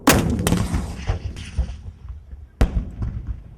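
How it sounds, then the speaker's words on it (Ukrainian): Two sharp, loud gunshots on a firing range several seconds apart, each a hard crack followed by a rumbling echo rolling across open ground. "Постріл."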